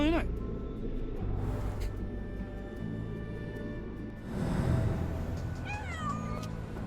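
A cat meows in the Sherlock Holmes: The Awakened video game, a couple of clear mews, one near the start and a sharper wavering call toward the end, over a low ambient game soundscape.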